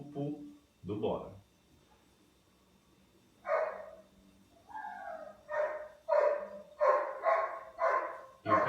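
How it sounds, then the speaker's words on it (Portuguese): A dog barks in a home during a ninth-grade chemistry lesson, a series of about eight sharp, evenly spaced barks, close and loud, quickening toward the end after a few brief earlier yelps. "E o cachorro está querendo participar da nossa aula."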